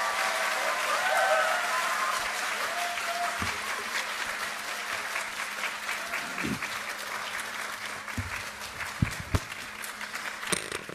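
Lecture audience applauding to welcome a Korean politician to the stage, a sustained crowd of clapping at even volume, with a few sharper individual claps near the end.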